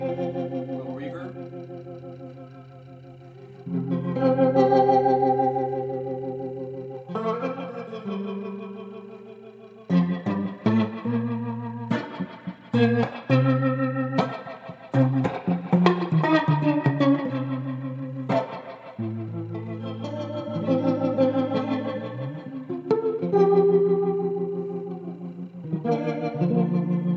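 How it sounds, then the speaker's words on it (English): Instrument notes run through a valve studio Leslie tremolo unit with reverb added, sustained tones and chords swirling with a lingering wash, broken by bursts of quicker plucked notes, loud and alone without talk. "Little reverb."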